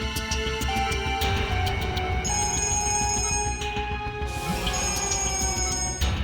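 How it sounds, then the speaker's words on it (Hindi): A telephone rings over and over in a continuous bright trill, layered with a steady tonal background, loud and unbroken with no voices. "बार-बार फोन आ रहा है।"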